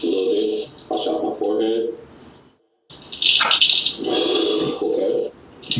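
Running water from a sink rinsing hair after a hairline procedure, a steady splashing flow that stops briefly and resumes, with people talking over it.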